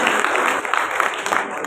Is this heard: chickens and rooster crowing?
no